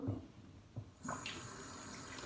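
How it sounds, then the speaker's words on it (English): Warm water running from a tap in a barbershop before a shave, a steady broad hiss starting about a second in after a few soft knocks, continuing evenly to the end with no talk. "I'm gonna apply nice warm water"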